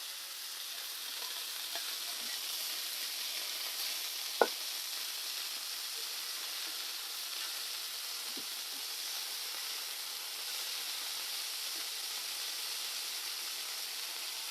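A burger patty sizzling in a frying pan, a soft, even hiss of frying fat heard close and steady, with a single sharp tap partway through and no voices.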